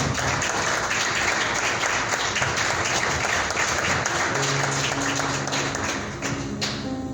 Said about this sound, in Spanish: pido un aplauso al Señor por la vida tuya, Ian